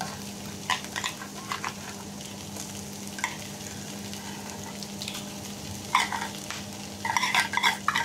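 Pork sisig with liver spread frying in a pan, a steady sizzle under repeated scraping stirs of a utensil against the pan, growing busier near the end.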